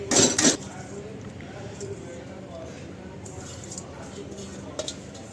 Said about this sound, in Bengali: এবার চালটাকে আমরা অ্যাড করে দিলাম